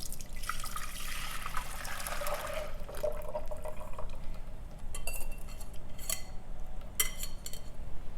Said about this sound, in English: slowly pour it in.